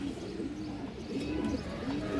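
A male Giribaz Sabji pigeon coos in low, repeated rolling phrases, fairly soft against a steady background hiss.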